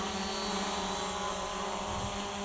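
VIRHUCK V6 GPS drone hovering in place outdoors, a steady, even propeller whine with a constant tonal hum, moderately close and unchanging throughout, no voices.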